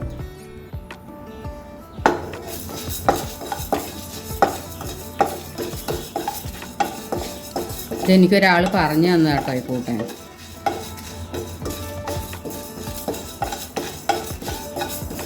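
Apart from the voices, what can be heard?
raw rice, dried chillies and fenugreek roasting in a pan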